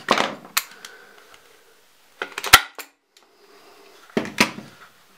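A staple gun fires three sharp, loud snaps spaced a couple of seconds apart, driving staples through fabric into a small hand-puppet armchair, with light handling clatter around each shot.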